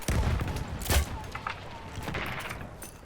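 Explosions in the First World War shooter Battlefield 1 land as heavy, loud blasts at the start and about a second later, set against ongoing distant gunfire and battle noise.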